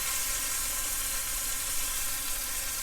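Beef pieces for stroganoff browning in a hot pan, a steady, close, even sizzle and frying hiss that runs unbroken throughout with no talking.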